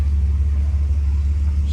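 A BMW with a performance exhaust gives off a steady, low rumble. The engine is close, loud and continuous, with no clear rev peak and no talking over it.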